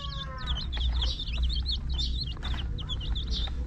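Many young chicks, one of a batch of 28 kept in a pen, chirp in a steady overlapping chorus of high, rapid peeps, close and fairly loud over a low background hum, with no talking.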